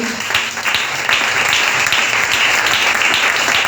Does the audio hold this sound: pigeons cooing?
no